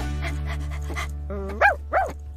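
Dog in a Portuguese-language radio advert, two short yelping barks near the end, heard over a steady humming music bed.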